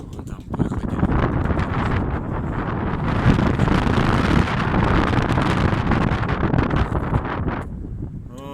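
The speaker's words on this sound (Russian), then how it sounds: "Очень сильный ветер" Very strong wind buffets and roars across the microphone in continuous rough gusts, loud and close, for nearly the whole stretch.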